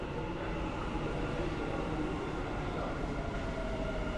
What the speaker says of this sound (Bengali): দেখেন ট্রেন চলে আসছে